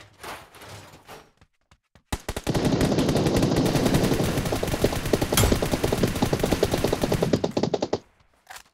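Rapid automatic gunfire in the mobile battle-royale game PUBG New State, a long, loud, sustained burst of closely spaced shots lasting several seconds, preceded by a few brief sounds.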